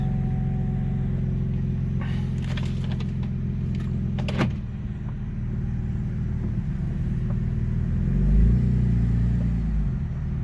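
Cabin of a 2008 GMC Acadia driving after a transmission repair, with a steady low engine and road rumble, a brief clatter of interior noises early on and a rise in engine drone near the end, with no talk.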